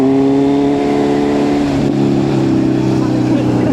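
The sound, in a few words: motorcycle starting off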